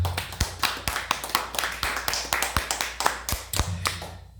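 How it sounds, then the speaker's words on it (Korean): A church congregation claps together during a sermon, producing a rapid series of sharp claps that is fairly close and steady throughout, without talk. "맞으면 하나님께 영광의 박수를 올려드립시다."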